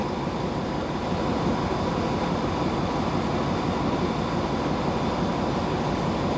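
A Thai-built luxury train pulls into Hua Lamphong station in Bangkok, producing a steady, unbroken rumble that stays even and loud throughout, with no talking.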